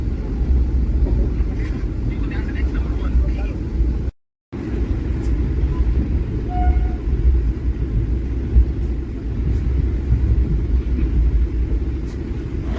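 Steady deep rumble inside a Vande Bharat Express train travelling between Patna and Katihar, a continuous low roar with brief faint clicks and one very short dropout, and no voices.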